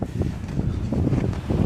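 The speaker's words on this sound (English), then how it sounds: "These lids just fly open because the wind's blowing this way." Wind gusts around rubbish bins outdoors, a rough, low rumbling buffet that swells and dips against the microphone, with no voices.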